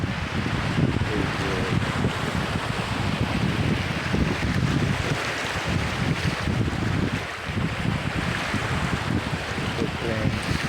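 Pacific Ocean waves at Moorecraft Regional Park in British Columbia, a continuous roar of surf mixed with strong wind buffeting the microphone, steady and fairly loud with no talk standing out.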